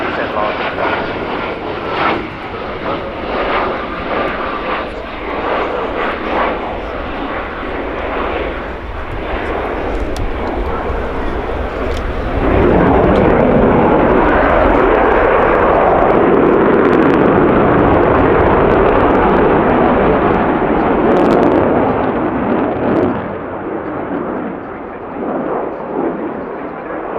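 A military jet at the RAF Fairford air tattoo roars overhead in a loud, sustained flying display, the engine noise swelling into a heavy, wide rumble midway and holding steady, while a commentator talks over a public address system throughout.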